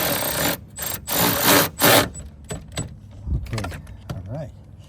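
A 13 mm terminal nut is tightened on the battery of a 2019 Chevy Silverado pickup. Close scraping and ratcheting bursts come first, then scattered metallic clicks and taps.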